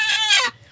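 A farm hen lets out a single loud, close, angry cluck-squawk lasting about half a second, then quiet farmyard ambience follows.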